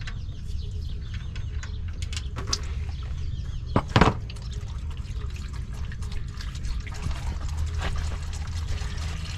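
Used motor oil drains into a pan in a steady, faint pouring trickle that runs for several seconds, with a brief louder splash partway through.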